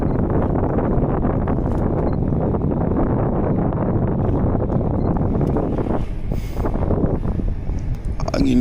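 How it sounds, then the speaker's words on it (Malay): Strong storm wind at sea roars and buffets continuously around a boat, loud and close throughout with no letup. "Angin"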